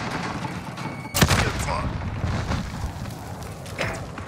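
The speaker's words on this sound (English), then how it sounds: "Throwing stun. Grenade out." In Call of Duty: Modern Warfare, a grenade blast and bursts of gunfire crack out amid a busy battle, with a sharp explosion near the start and scattered shots after.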